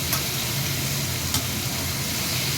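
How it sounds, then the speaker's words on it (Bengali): Four chopped tomatoes are stirred and mixed in a hot frying pan for a sweet-and-sour vegetable curry, giving a steady, close, loud sizzle with faint scraping and two light taps of the spoon against the pan. "এই 4টে টমেটো ভালো করে মিশ্রণ করতে হবে"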